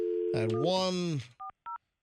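Telephone dialing tones on a call being placed, two short clipped beeps following a person's brief spoken word, close and clear.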